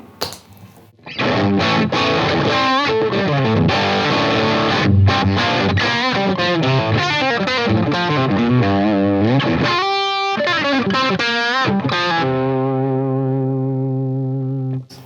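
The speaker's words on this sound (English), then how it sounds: "Classic rock guitar, straightforward rock." Overdriven Midtown electric guitar played through an amp in a classic rock style, loud chords and riffs with a sustained ringing chord fading at the end.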